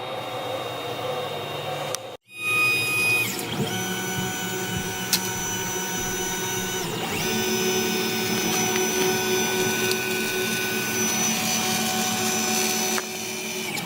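A Tevo Tornado 3D printer runs an XYZ calibration test, its motors whirring and buzzing steadily nearby, with shifting tones as the axes move and a short break early on.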